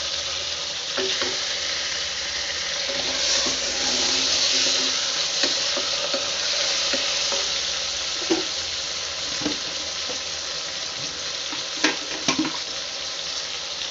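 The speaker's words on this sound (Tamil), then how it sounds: "இது நல்லா வதங்கி வரட்டும்" Tomatoes and onions sizzle steadily in a pan as the base for a butter bean kurma, a constant close frying hiss broken by the occasional clink and scrape of stirring.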